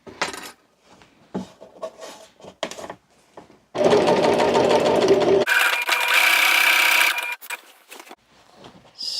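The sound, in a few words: sewing machine stitching basket liner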